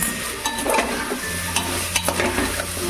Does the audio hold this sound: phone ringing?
no